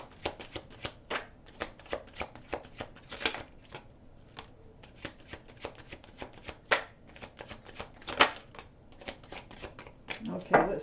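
Tarot cards shuffled by hand in quick repeated riffles and taps, crisp papery bursts coming in bunches with short pauses between them.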